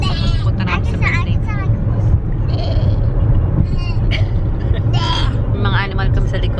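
Sheep bleating on a farm amid a steady low engine rumble, with several wavering cries rising over the noise while people talk throughout.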